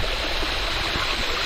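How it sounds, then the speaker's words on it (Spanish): A waterfall pours into a river pool, a loud, dense, continuous rush of water close by with no other sounds over it. "Miren, una poza para nosotros con la cascada."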